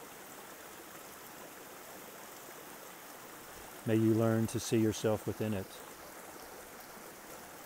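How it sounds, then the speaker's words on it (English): A small mountain creek flows with a constant soft rushing murmur throughout, while someone speaks gently over the middle stretch. "as this little mountain creek."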